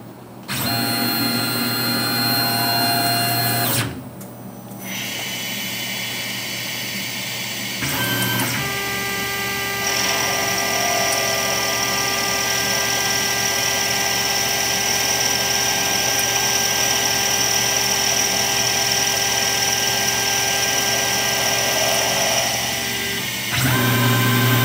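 Boring head taking a cut on a Tormach CNC mill with a little cutting fluid, a steady whining spindle tone with a brief pause and restart, then a long continuous cut at even loudness before stopping.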